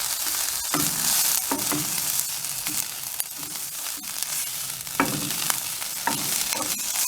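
Kale with oregano is stirred in a hot pan, a close, continuous frying sizzle broken by repeated scraping and clattering strokes of the utensil, with no voices.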